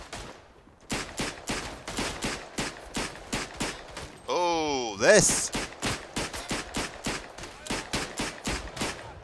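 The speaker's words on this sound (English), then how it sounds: "it just sounds so much more meaty than a standard Luger" Rapid, evenly spaced pistol shots from a WWI Luger fitted with a 32-round snail drum magazine in the trench-combat shooter Verdun, loud and close, with a short sung or spoken phrase cutting in midway.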